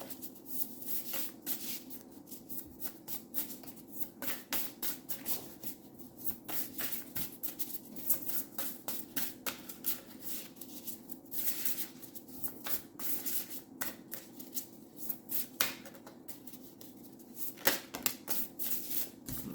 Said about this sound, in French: On va brasser.